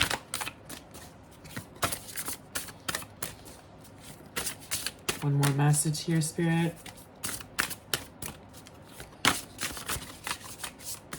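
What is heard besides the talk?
shuffling a deck of cards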